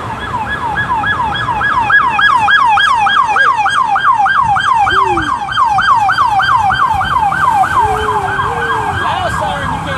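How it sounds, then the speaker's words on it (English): A loud wailing police siren cycles rapidly up and down, close by and steady, with a low vehicle rumble underneath. "Loud siren, you can't hear that."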